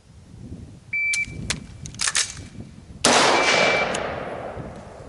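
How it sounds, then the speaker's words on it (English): A 13.7-inch rifle fires two sharp, loud reports, one near one second and a heavier crack around three seconds that rings out into a long fading echo, with small clicks and handling noises in between. "just take the shot quickly"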